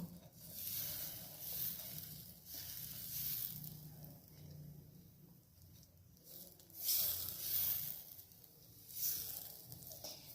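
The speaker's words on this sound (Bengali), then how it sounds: "সসপ্যানের মধ্যে আমি ব্যাটারটা দিয়ে দেবো, দিয়ে সুন্দর করে আস্তে আস্তে করে হাতার সাহায্যে গোল করব।" Patishapta batter sizzling softly in a saucepan as a ladle spreads it into a round, a quiet hiss swelling and fading in gentle waves, with no voices.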